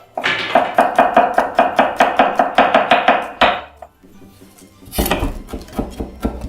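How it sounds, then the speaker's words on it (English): Garlic cloves are worked on a kitchen cutting board, starting with a fast, even run of about twenty crisp knife strikes. Heavier thuds follow as the cloves are smashed, all close and loud with no voices. "For the garlic, I can just smash it like this."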